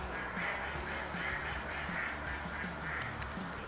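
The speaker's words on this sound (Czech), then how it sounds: "A koncert s kachnama, pecka." Ducks quack outdoors in autumn, a faint, repeated chorus of calls over steady background noise.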